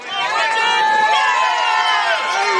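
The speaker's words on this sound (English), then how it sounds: "You'll begin to hear the crowd begin to get louder and louder as Outrage begins to feel that they're on their way to victory" Loud bowling-alley crowd at a team bowling tour stop final, a dense wash of shouting and cheering voices that swells steadily and stays full throughout.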